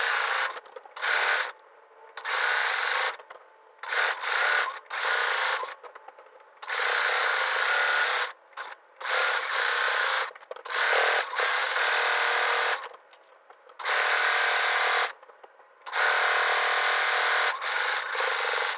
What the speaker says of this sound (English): going to go ahead and top stitch around this inner circle of the neckband